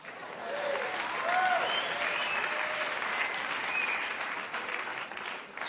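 Sustained audience applause at the 1993 Rock & Roll Hall of Fame induction ceremony for Cream, a loud, even wash of clapping from a large crowd with a few faint cheers mixed in.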